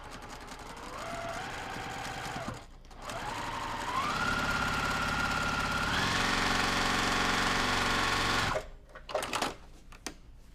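A sewing machine stitches a quarter-inch seam with a fast, steady mechanical whirr that pauses briefly, speeds up again and runs on, then cuts off into a few short clicks and bumps.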